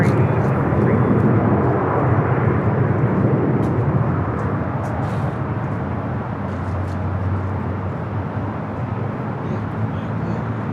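A fixed-wing airliner takes off from runway 24 left at LAX, its engines a loud sustained roar that slowly eases as it departs, with radio voices faintly present.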